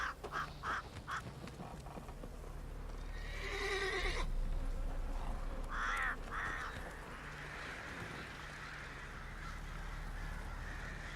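A horse in a video game, wearing a griffin head, lets out a loud, drawn-out whinny in the middle, framed by short hoof clops and game effects over a constant low rumble.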